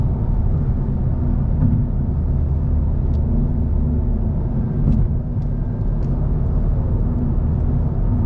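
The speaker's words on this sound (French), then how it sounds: "Oh l'enfoiré quand le turbo il s'enclenche." Mazda 3 MPS with a 2.3-litre turbo engine rated at 260 hp, heard from inside the cabin as it accelerates: a loud, steady low engine rumble and road roar that holds constant throughout, with no talking.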